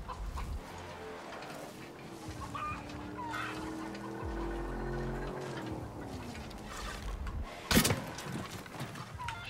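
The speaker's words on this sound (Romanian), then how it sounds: "Ok, care e faza cu găina?" A chicken clucks inside the video game Far Cry New Dawn, a run of short wavering calls over steady game ambience, then one sharp loud squawk near the end, with no talk.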